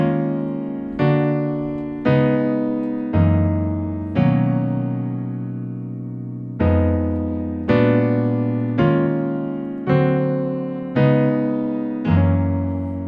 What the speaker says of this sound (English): The verse, section 1 and section 2, play slowly.